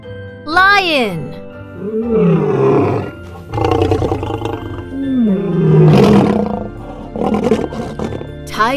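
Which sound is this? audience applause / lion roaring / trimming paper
lion roaring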